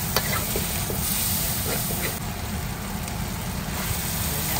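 Rice vermicelli with egg, soy sauce and chili sauce is stir-fried in a hot pan, giving a loud continuous sizzle with scraping and stirring knocks throughout.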